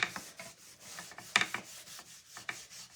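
Cloth rubbing wax onto a wooden sign, a series of short, close rasping strokes with brief pauses between them and no voices.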